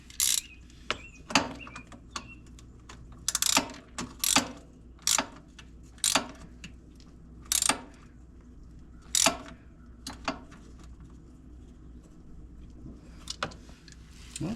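A ratchet clicks in short bursts while snugging the oil drain plug on a Honda FourTrax Foreman Rubicon 4x4 ATV, quiet, close and crisp, with pauses between strokes.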